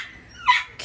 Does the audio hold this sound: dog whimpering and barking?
yes